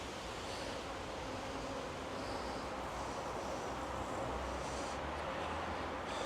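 Buckfast honey bees hum around a queenless hive where a new queen has just been introduced, a steady, dense, moderately faint buzzing drone throughout with no talking.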